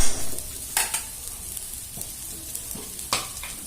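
Bitter gourd fry sizzles steadily in a pan while a utensil stirs it, with a few sharp scraping clacks against the pan standing out above the continuous frying hiss.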